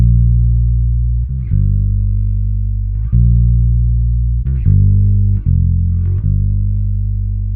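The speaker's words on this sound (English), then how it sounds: "You just turn up that neck pickup and then maybe turn the tone down just a little bit" Warm, deep notes from a Michael Kelly Vintage Element 4 electric bass on its neck pickup, tone turned slightly down, played alone, each plucked note sustaining smoothly with soft attacks, a few changes of pitch in a slow line.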